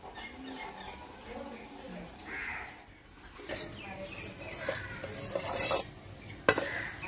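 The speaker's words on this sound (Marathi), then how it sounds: "हे मी आता पाट्यावर वाटून दाखवणार आहे" Wood apple chutney with jaggery, salt and three chillies being ground by hand on a traditional flat grinding stone, intermittent gritty scraping and rubbing strokes, close by, with a voice talking over parts of it.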